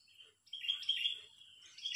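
A wild bird gives a high, sustained calling phrase during a bird-fighting challenge, moderately close against a quiet background, swelling after a brief pause.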